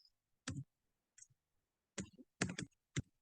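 Typing on a computer keyboard, a few sharp isolated key clicks in an irregular rhythm with a quick burst of two or three near the end, close and distinct against near silence.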